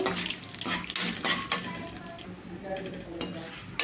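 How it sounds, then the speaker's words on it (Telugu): Tempering spices, including dried red chillies, sizzle and crackle in hot oil, with intermittent stirring scrapes and clinks of a utensil against the pan. "తాలింపు బాగా వేగాలండి"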